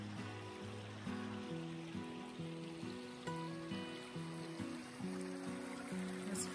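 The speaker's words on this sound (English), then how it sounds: "The trail crosses a creek here." Creek water flowing across a trail in a Grand Canyon side canyon, a steady, soft babbling rush with no voices.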